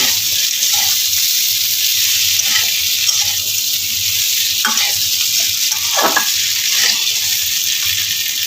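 Chopped tomatoes and four slit green chillies sizzle and fry steadily in a pan, with occasional stirring scrapes breaking through the continuous hiss, close and fairly loud with no talk.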